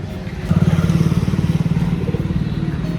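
An old motorcycle brought in for servicing runs nearby, its engine chugging in a steady, rapid, loud thumping rhythm that continues throughout, with no voices.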